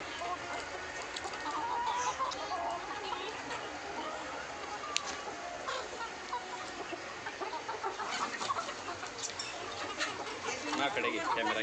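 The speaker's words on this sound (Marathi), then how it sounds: "आपल्या एका गावरान कोंबडीने इतक्या उन्हात सुद्धा अंडे दिलेलं आहे" Native village hens cluck on a poultry farm in hot sunny weather, steady close clucking and fowl calls over a busy outdoor background, with people talking throughout.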